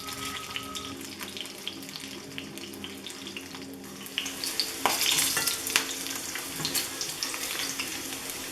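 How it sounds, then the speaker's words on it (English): Thawed pierogis fry in a pan with a steady, close sizzle that swells louder partway through, with faint stirring and scraping over the crackle. "Place thawed pierogis in the pan and fry for about 3 minutes."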